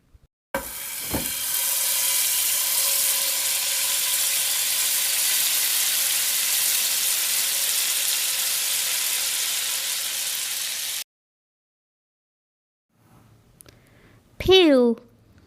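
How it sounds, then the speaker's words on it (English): Food sizzles and fries steadily in a pan for about ten seconds, a loud, dense hiss that cuts off abruptly, followed by a short pause and a brief spoken word. "fry"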